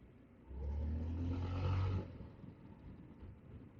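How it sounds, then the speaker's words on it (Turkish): A Honda ADV 350 scooter engine swells into a loud, steady drone for about a second and a half while riding, then drops back to a lower hum under the wind noise. "Motorun sesi geliyor mu acaba ya?"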